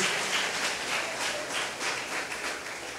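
A church congregation applauds during a sermon, a steady, even wash of many hands clapping together that fills the room for a few seconds with no talking over it.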